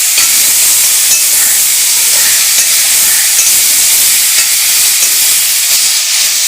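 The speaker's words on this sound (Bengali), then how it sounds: "কষানো চলছে" Spice masala sautéing in a pan for Bengali home cooking gives a steady, close frying sizzle and hiss that runs unbroken from start to finish, with no talking over it.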